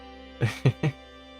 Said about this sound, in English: You can just hear the slorp glorpin sounds of this fucking marsh.